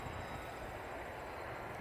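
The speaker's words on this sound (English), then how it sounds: "Oh, look at the plane up there." Faint, steady broadband roar of a distant airplane, continuous and even with no other sounds.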